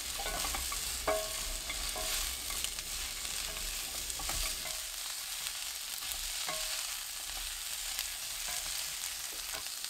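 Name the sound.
stir-frying onions with garlic in olive oil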